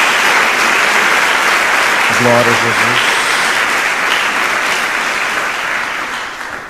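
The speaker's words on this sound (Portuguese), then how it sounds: "Uma salva de palmas ao Senhor." A church congregation claps loudly and steadily throughout, a dense continuous wash of applause that fades slightly at the end, with a brief spoken exclamation heard over it.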